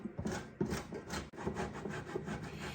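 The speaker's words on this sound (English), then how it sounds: "Get your hard cheese and just grate up anywhere from 1/3 to 1/2 cup." Hard Parmesan cheese is rubbed against a grater in quick, even, rasping strokes, quiet and close, with no talking.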